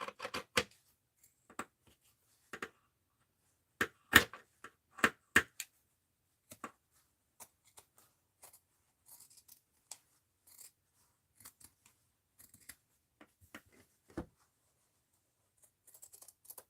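Scissors snipping through paper or mixed-media material in a quiet room, a series of sharp, close cuts in irregular bursts with short pauses between them.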